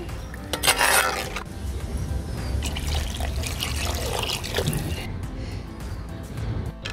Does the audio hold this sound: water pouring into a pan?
yes